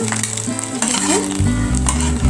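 An egg fries in a hot pan for a cabbage and egg dish, giving a loud, close, continuous sizzle with scraping stirring sounds and some utensil clatter against the pan.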